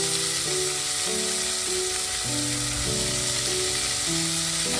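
Chopped bok choy leaves fry in hot oil in a pan, giving a constant hissing sizzle under gentle background music.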